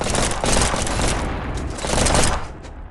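Shotgun blasts ring out in rapid succession during close-range fighting in the VR game Animal Company, loud, dense booms running together over about three seconds before trailing off.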